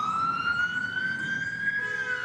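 A wailing ambulance siren sweeps in a steady rising tone, loud and close, with no voices over it.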